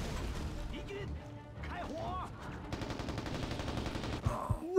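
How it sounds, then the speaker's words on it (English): Video-game gunfire in Mercenaries: Playground of Destruction: bursts of rapid shots mixed with crashes, whistling effects and mechanical clatter, fairly loud throughout, ending on a sharp impact. "Can we take this guy down with just gunfire again?"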